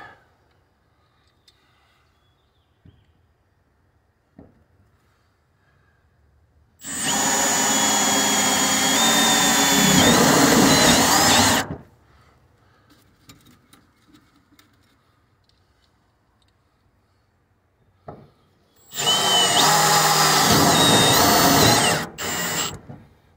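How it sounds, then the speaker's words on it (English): A power drill whirs loudly in two long runs of several seconds each, separated by near silence with faint handling clicks, while cutting a hole in a car floor to reach the electric fuel pump. "Clutches on a drill always aggravated me."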